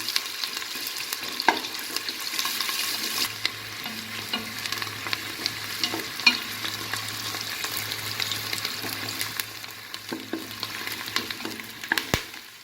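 Sliced onions sauté in hot oil for mutton biryani, giving a steady, close crackling sizzle with occasional scrapes and taps of stirring throughout.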